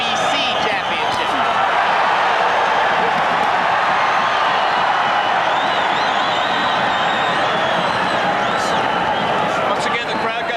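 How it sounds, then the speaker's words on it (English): Crowd at a boxing match, an IBF junior middleweight title bout, roaring and cheering continuously at high volume, a dense wash of voices with occasional whoops rising above it. "Once again, the crowd got very excited."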